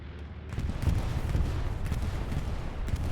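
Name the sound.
bombing run explosions in a war video game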